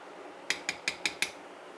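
A spoon knocks five times in quick succession against a pot of vegetable pulao, sharp metallic clinks with an even rhythm that stand alone over quiet background.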